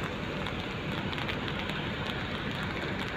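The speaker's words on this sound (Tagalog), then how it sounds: "Nako, mahina pa naman yung ulan na to." Light rain falls in Dubai as a steady, soft hiss of drops on surfaces, faint and continuous with no voices.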